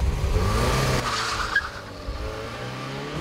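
Car engine roaring during a race track lap, a loud, close, steady engine drone with tire squeal and a brief skid in the middle.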